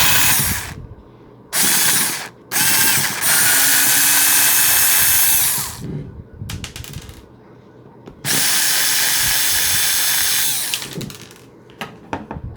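Screws being removed from a Brother toner cartridge with a power screwdriver, which whirs loud and close in several long bursts, separated by clicks and handling noises.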